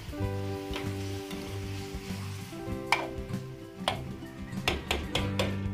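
Food frying and sizzling in a pan while being stirred, a steady hiss under repeated scraping and clinking strokes, close and fairly loud, in a Filipino home cooking setting in Sto. Tomas, Batangas.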